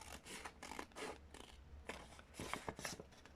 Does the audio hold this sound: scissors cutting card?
yes